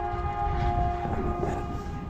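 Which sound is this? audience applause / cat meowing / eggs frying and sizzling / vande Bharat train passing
vande Bharat train passing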